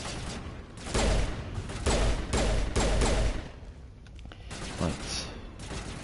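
Gunfire in the video game Mass Effect Legendary Edition, several loud bursts of shots close by, heavier in the middle and sparser toward the end, with a voice talking over them.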